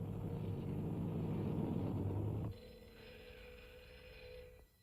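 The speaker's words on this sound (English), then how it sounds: "Not if the phone rings." A telephone rings indoors, a steady electronic ring tone lasting a couple of seconds after a louder rumbling passage, heard alone with no talk.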